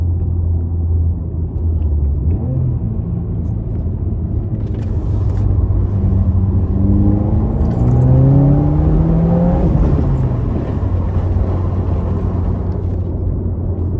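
A turbocharged 2022 Subaru WRX engine with an aftermarket air filter rumbles steadily, then revs up with rising whine through the mid-range before settling back to a low, loud drone.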